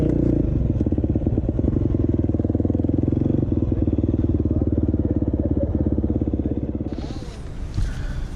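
A 2020 KTM 350 XCF dirt bike ridden on an open trail loop, its four-stroke engine droning loud and close at a steady pulsing rev, with clattering over terrain, easing off near the end.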